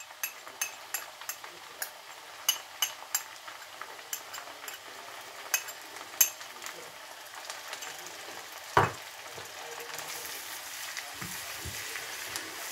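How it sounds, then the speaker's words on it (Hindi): Chopped ginger and garlic frying in a pan for a Punjabi-style chana dal mash, giving a faint, steady sizzle with scattered crackles and a few soft stirring knocks. "अभी इसमें जो है ना ये अदरक और लहसुन शामिल कर दें।"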